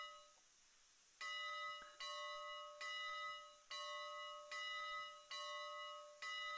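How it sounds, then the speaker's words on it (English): Locomotive bell in the Railroads Online train game ringing in a steady, evenly spaced series of bright metallic clangs, about seven strikes, each decaying before the next, clear and alone with no talk. "And then the bell, it looks, sounds really, really good. It sounds just like the Climax's bell."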